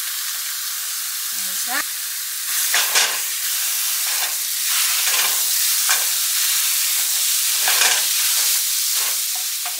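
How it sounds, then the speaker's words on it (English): Sausage fries in a pan with a loud, steady sizzle and occasional stirring scrapes, close up, while a voice speaks a few brief words. "so I'm gonna start cooking my sausage"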